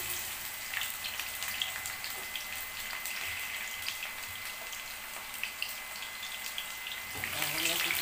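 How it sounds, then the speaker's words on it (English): Onion frying in hot oil, a steady close sizzle and hiss with scattered pops that swells toward the end. "So I'll put in my onion for frying."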